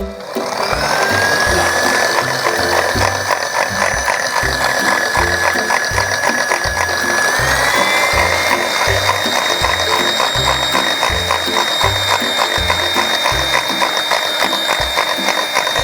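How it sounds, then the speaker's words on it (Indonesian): An electric hand mixer whips dalgona coffee in a bowl, whirring loudly and continuously with a steady rhythmic mechanical rattle, its motor pitch shifting slightly partway through. "Dan kita mixer."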